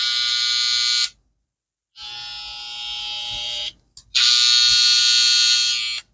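An electric hair trimmer with a graphene blade buzzes loudly up close in two long bursts, switched off and on between them, with a high steady whine.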